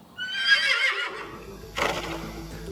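A horse whinnies loudly and close by in one shrill, quavering call lasting about a second, followed by a softer snort or second brief call and faint hoof sounds.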